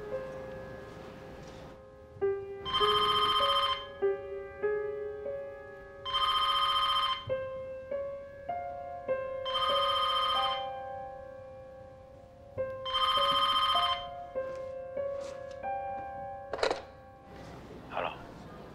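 A telephone rings in a TV drama scene, with four loud bursts of bright electronic ringing spaced a few seconds apart between softer tonal beeps and quiet background sounds.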